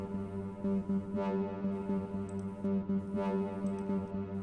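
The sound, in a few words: Korg wavestate synth trance gate sequence through band pass filter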